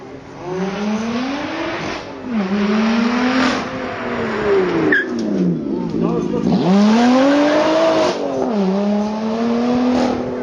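A Lotus Z360 Cup race car drives on track, its engine revving up through several gears with rising pitch sweeps and brief drops between shifts, loud and close, with tire noise.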